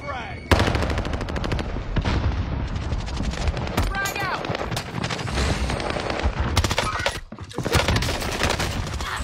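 Heavy automatic gunfire in the Warzone video game: dense, continuous bursts of loud, rapid shots with brief gaps, close and overlapping, with player chatter likely mixed beneath.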